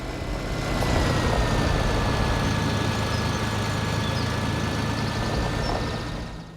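Tractor engine pulling a plow in Farming Simulator, a steady, loud mechanical drone with a low rumble that holds evenly throughout with no talk over it.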